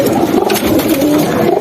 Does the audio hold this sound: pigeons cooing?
yes